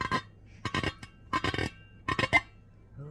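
Short bursts of squeaky rubbing against a smooth, clean washed dish, repeated four times in quick strokes, close up and fairly quiet.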